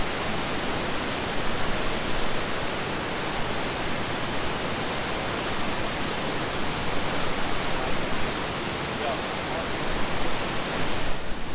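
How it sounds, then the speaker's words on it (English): A waterfall in Haugesund, Norway roars close by as a continuous, even wash of rushing water. It stays loud and unbroken throughout. "The waterfall is very close."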